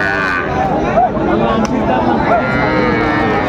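Cattle, small young bulls and heifer calves, low and moo at the busy Ambari livestock market in Dinajpur, several calls rising out of loud chatter and bargaining voices nearby.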